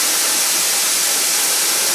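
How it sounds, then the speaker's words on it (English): Steam hissing steadily from a pressure canner processing raw packed chicken breast, a loud, continuous close hiss with no pauses or talking. "see that steam coming out?"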